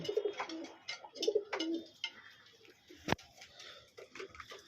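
Several pigeons coo nearby in a pigeon loft in soft, throaty bursts, with a sharp tap and faint fluttering between the calls.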